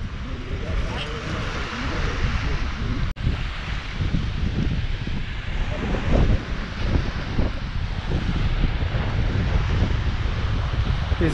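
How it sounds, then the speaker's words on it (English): Strong wind buffets the microphone in low rumbling gusts on a Lake Erie beach at Presque Isle State Park, Pennsylvania, with a faint wash of waves underneath. "It's a little windy."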